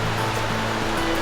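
Ocean surf rolling onto a beach in El Salvador, a steady, loud, broadband wash of breaking waves filling the whole moment with no voices.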